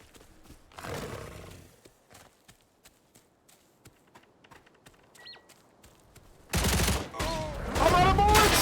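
Video game gunfire starts after a long quiet stretch of faint clicks and becomes a loud, sustained burst of rapid shots that runs to the end.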